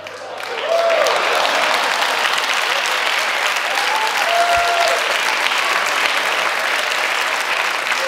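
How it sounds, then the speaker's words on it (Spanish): A large studio audience at a late-night comedy talk show applauds loudly and steadily, a dense wash of clapping that holds for several seconds. "Este aplauso sí que no lo puedo interpretar"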